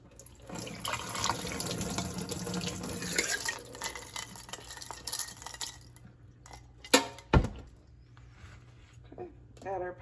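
Water running from a tap during rinsing of polished Lake Superior rocks, a steady splashing flow that later thins to intermittent splashes with a couple of sharp knocks, with speech mixed in.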